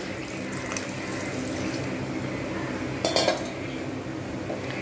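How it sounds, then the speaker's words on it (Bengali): Water poured from a tap or jug into a pot of potato curry, a steady splashing stream with a brief clink of metal cookware near the end, heard close and alone. "এবার আমি এর মধ্যে দিয়ে দেবো জল দিয়ে বাকিটা সিদ্ধ হবে।"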